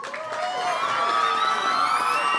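At an outdoor Greek flag raising ceremony in Lowell, a crowd of adults and children cheers and shouts steadily, a loud, sustained wash of voices throughout.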